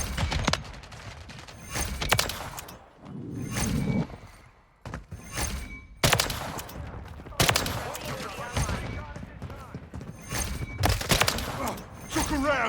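Rapid bursts of gunfire crack and rattle in a first-person shooter game, loud shots and machine-gun volleys in clustered volleys with short pauses, mixed with mechanical clicks and glassy shatters, under occasional voices.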